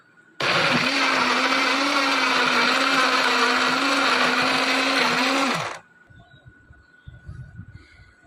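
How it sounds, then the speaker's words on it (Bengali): An electric blender whirs loud and steady for about five seconds while processing ingredients for raw green mango juice, then cuts off abruptly, leaving faint background noise and brief soft sounds. "বড়া ছোট প্রসেসিং চলছে ব্লেন্ডার দিয়া।"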